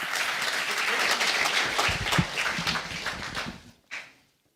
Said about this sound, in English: Please join with a big applause to His Excellency Macky Sall